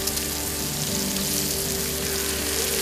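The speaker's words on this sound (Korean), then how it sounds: "대리석 불판 위에서 지글지글 삼겹살이 익어간다." Pork belly sizzles on a marble grill plate at a marble mine in Jeongseon, Korea, a continuous crackling fry with fat spitting steadily and close up, without pause.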